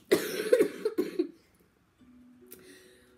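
A few harsh, close coughs in quick succession, followed by quiet and a faint background hum.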